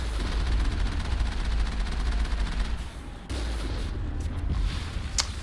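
Enemy gunfire in Mass Effect, a dense sustained volley of rapid shots and blasts roaring steadily and loudly, briefly dipping before resuming with scattered sharper reports.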